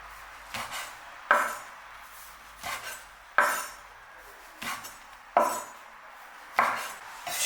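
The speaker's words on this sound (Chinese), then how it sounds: "把油豆腐放至菜板上，先对半切开，这样容易入味" A knife slices fried tofu puffs in half on a cutting board in a home kitchen, giving six crisp, evenly spaced chops about a second apart, each preceded by a soft scrape as the blade is positioned.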